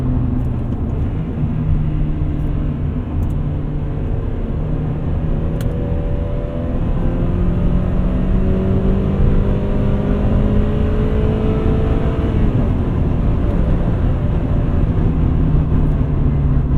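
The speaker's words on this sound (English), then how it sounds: "I love the sound it makes. It sounds a lot throatier than a lot of the smaller engines." A 2000 Honda Prelude's engine revs loudly and steadily from inside the car, its throaty drone rising and falling in pitch as it pulls through the gears without a break.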